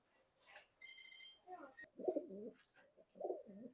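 A running pair of Pakistani Teddy pigeons coos softly nearby in several short, throaty bursts separated by brief pauses, in an otherwise quiet space.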